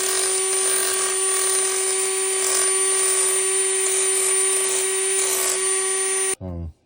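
A blade ground against a sharpening stone in a fishing and repair setting makes a continuous, loud, whining grind that holds steady for about six seconds, then cuts off abruptly, with a short burst following.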